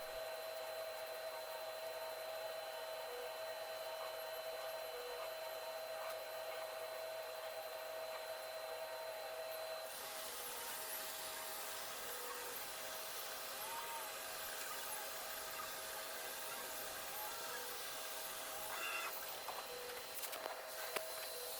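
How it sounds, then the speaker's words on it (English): A laser cutter cutting through 4mm plywood, making a steady, continuous mechanical whir with air-assist hiss and faint moving-head clicks, a clear change in tone about halfway through, with no talking. "watching a laser cutter work never gets old"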